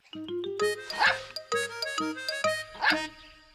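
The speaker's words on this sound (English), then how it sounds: "Snuffy jumped up again and barked with joy" Cartoon dog barking joyfully in an animated children's show, a run of quick high yips and barks in bouncy bursts with two brighter excited peaks, close and clear over light music.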